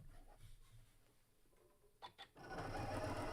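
A sewing machine stitches quilt blocks, starting up after a quieter stretch with a couple of short bursts, then running steady and loud to the end.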